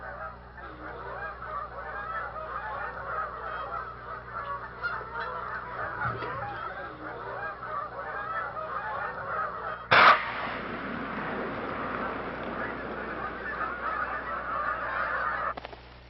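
A flock of Canada geese honks continuously at a wildlife refuge in winter, many overlapping calls at a steady distance, with a brief louder burst midway.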